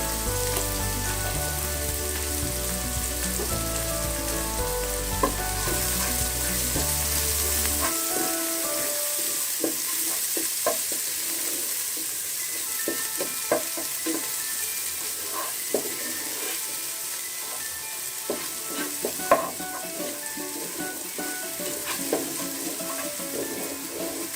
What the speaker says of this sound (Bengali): পেস্টটি হালকা বাদামি করে ভেজে নেব